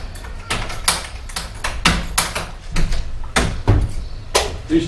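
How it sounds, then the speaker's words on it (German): A shop door is opened at a shop in Berlin with a string of sharp clicks, knocks and thuds from the handle and frame, irregular and fairly close, with no talking. "Tür."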